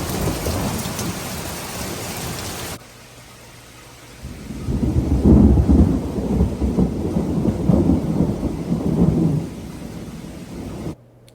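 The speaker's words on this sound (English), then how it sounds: "May 16th started off really stormy." A stormy morning thunderstorm brings steady rain and a long, heavy roll of thunder that swells and rumbles for several seconds before dying away, with no voices.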